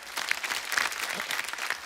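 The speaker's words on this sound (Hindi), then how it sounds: "जितने भी लोग हैं सब खुशी से, दिल से सोनू बाजी के लिए खड़े होकर ताली बजा रहे" A studio audience at a comedy show claps steadily and warmly, a dense, continuous round of applause without talk.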